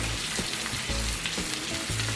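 A Wagyu steak sizzles loudly in a pan as it is flipped, a close, continuous crackling fry with bursts of popping throughout.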